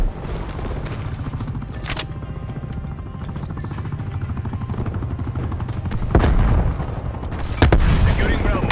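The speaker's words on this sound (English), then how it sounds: "Enemy attack helicopter above." Enemy attack helicopter in the Black Ops Cold War video game, a steady rotor drone running through the whole stretch among rumbling gunfire and booming explosions, with a couple of sharp heavy blasts near the end.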